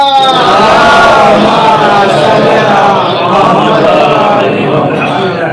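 Congregation at a Shia majlis answers a call with a loud collective chant, many voices in unison swelling together close by for several seconds.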